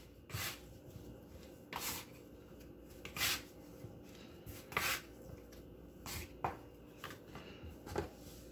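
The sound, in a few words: scraper bringing biscuit dough together on work surface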